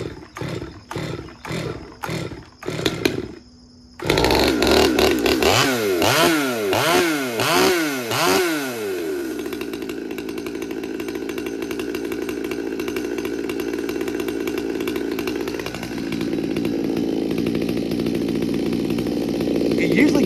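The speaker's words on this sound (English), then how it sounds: "You'll notice how much smoke is coming out of this. It's starting to idle up already." Stihl MS200T chainsaw running rough and smoky with the choke off, pulling through a few sputtering starts, revving in wavering surges, then settling into a loud, steady high idle close by.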